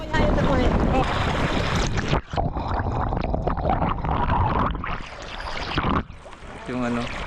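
A boat cruising on a river running with a strong current on a Palawan trail crossing; its loud, continuous rushing engine-and-water roar is heavily buffeted by wind on the microphone, dipping briefly before surging on.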